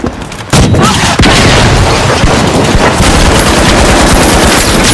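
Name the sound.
grenade thrown in the video game The Finals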